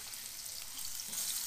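Butter sizzling and melting in a preheated frying pan, a steady, soft crackling hiss that grows slightly louder near the end, heard alone close up.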